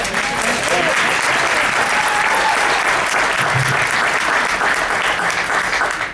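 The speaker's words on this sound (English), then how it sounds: "You better clap it out." An audience claps loudly and continuously at a Newark education presentation. The dense, sustained applause fills the room throughout, with faint voices mixed in beneath it.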